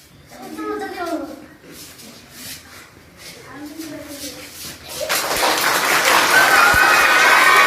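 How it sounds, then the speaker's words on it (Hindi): Children clapping in a classroom after a fire-safety exercise, a dense burst of applause swelling up and continuing steadily, following a few seconds of nearby talk. "सब तालियां पीटने लगे"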